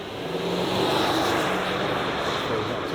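A 2024 Chevrolet Silverado 2500 HD pickup accelerating at full throttle, its engine giving a steady, loud drone throughout, with a voice talking over it.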